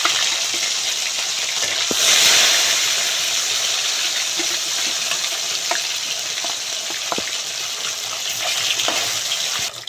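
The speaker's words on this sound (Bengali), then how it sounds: "মাছগুলো আমি একইভাবে ভেজে নেবো" Fish, glass kalf, frying in hot oil for a fish and potato curry: a steady dense sizzle with a brief louder crackling swell early on, then continuous bubbling hiss with occasional small pops, close and alone.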